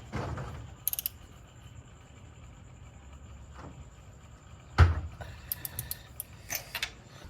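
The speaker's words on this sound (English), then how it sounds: "we're screwing the plug in right now. Alright, we're just tightening it up a little bit." Ratcheting and creaking of a wrench tightening a spark plug into a 2002-2006 Toyota Camry engine, a few short clicks and a sharp clank near the middle, fairly faint and close, with no talking.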